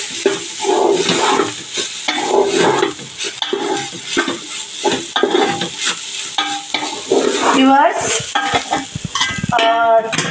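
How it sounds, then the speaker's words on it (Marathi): Grated coconut sizzles as it fries in ghee in a pan, with a spoon repeatedly stirring and scraping against the metal, close by. "आता मी हो चव तुपातला परतून घेईन, फ्राय करून घेईन"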